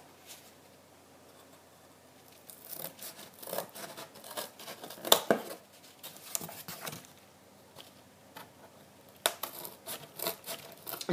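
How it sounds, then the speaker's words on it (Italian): Scissors snip through thick cardboard card, faint scattered cuts and rustling in irregular bursts, close and quiet, with no talking. "ora lo ritaglio con le forbici."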